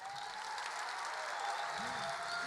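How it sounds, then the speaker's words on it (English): Audience applause at a poetry slam event, a steady broadband wash of clapping throughout, moderately distant, with a faint voice rising near the end. "A round of applause, please."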